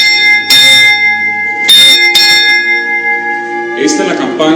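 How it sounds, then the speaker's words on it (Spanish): A bell linked to Padre Pio is struck several times, each hit a bright, loud metallic clang that rings out and slowly fades, heard close, with some voices underneath near the end. "Vamos a sonar esta campana."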